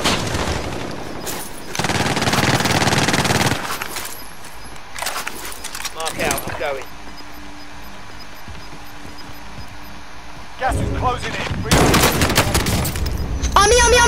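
Gunfire in the video game Warzone, several loud bursts of rapid shots and booms spaced across the clip, separated by quieter stretches.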